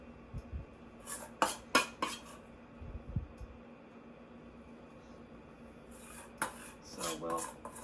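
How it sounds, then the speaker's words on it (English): Spatula scraping melted chocolate for chocolate bark out of a bowl onto a pan, with a few sharp metallic clinks and scrapes between quiet pauses. "So we'll scrape out our bowl and try to get as much as we can out onto our pot or our pan."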